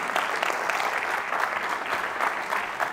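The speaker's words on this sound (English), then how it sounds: "Clap your hands if you did summer theater." An audience at a memorial gathering claps together, a sustained wash of many hands at moderate loudness, steady and even throughout with no voices on top.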